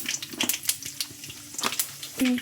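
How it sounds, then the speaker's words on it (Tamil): Mustard seeds and chana dal fry in hot oil for a tempering, giving scattered close crackles and pops over a low sizzle, ending with a brief metallic clink. "கடுகு கடலப்பருப்பு நல்லா பொரியட்டும்"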